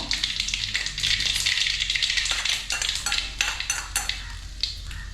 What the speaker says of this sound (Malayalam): അപ്പം നമുക്ക് കടു ഇട്ട് കൊടുക്കാം കടു കൊട്ടട്ടെ